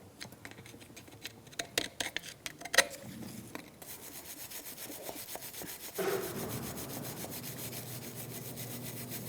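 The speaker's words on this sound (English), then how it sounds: "you're going to want to clean with a flathead screwdriver at first just to get the creases, and then a wire brush" A wire brush scrubs brake dust and rust off a front brake caliper bracket on a 2005-2010 Chrysler 300, giving quiet, uneven rasping strokes that settle into a continuous faint scrub.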